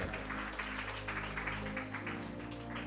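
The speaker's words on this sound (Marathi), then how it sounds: "जरा ब्रदरसाठी जोरदार टाळ्या" Sustained applause from a congregation at a Marathi-language Christian sermon, a steady crackle of many clapping hands filling the full stretch at moderate loudness with no voice over it.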